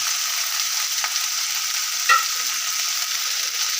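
Pomegranate and coconut upperi fries in a pan while being stirred, giving a steady, bright sizzle throughout with a couple of faint scrapes from the stirring.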